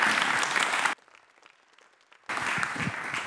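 A live audience at a talk on data visualization claps warmly in a dense, steady burst. The applause cuts out for over a second before returning at full strength.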